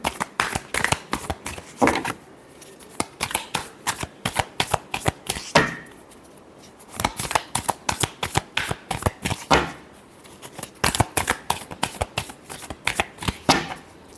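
Tarot cards shuffled by hand during a reading, a long run of crisp riffling bursts with brief pauses between them, close and clear with no talking.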